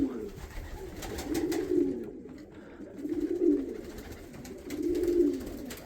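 Soft, low pigeon coos repeat in a slow rolling rhythm, three drawn-out calls close by over faint background noise.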